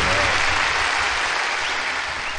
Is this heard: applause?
yes